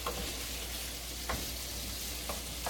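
Southern country gravy sizzling in a skillet, a steady frying hiss with a few soft scrapes of a spoon stirring it, close up and with no talking.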